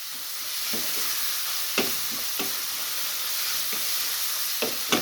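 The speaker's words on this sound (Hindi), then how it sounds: "इसको हमने अच्छी तरह इसमें घी में फ्राई करना है" Turnip pieces fry in hot ghee with a steady, even sizzle, broken now and then by brief scraping clicks of a spoon stirring the pan, close and without talk.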